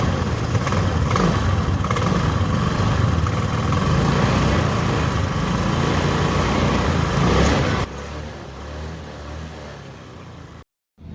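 A TVS Jupiter 125 cc BS6 scooter engine runs steadily at close range with a rough, buzzing drone, easing slightly lower before cutting off abruptly near the end.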